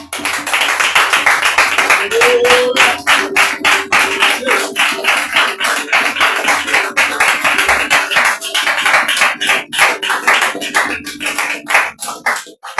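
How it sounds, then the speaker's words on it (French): Congregation clapping in rhythmic acclaim during a church prayer service, steady close-up hand claps filling the whole stretch, with a faint voice underneath. "je souhaiterais que tu acclames le Seigneur Jésus"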